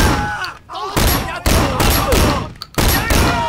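Gunfire in the video game Sleeping Dogs: a rapid volley of loud, close shots and heavy thuds in bursts, broken by brief gaps, with a voice talking alongside.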